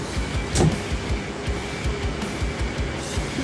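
A Toyota 1JZ engine swapped into a Mazda RX-7 cranks over for its first start, a steady close mechanical churn with repeated low pulses and a brief louder burst early on, no talk.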